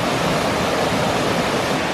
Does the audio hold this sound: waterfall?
yes